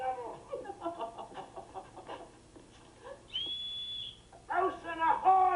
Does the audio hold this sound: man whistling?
yes